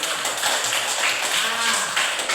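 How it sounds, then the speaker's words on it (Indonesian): Applause from an audience at an Indonesian deliberation gathering, a dense steady patter of many hands lasting throughout, fairly close and even in loudness. "Iya, tepuk tangan."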